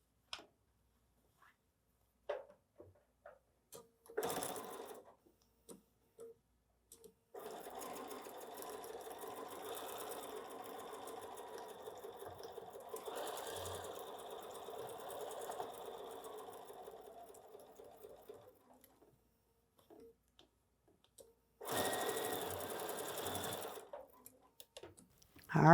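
A sewing machine stitches seams on quilt block pieces, with a fairly quiet steady whirring run of about eleven seconds, a short burst before it and another near the end, separated by soft handling clicks.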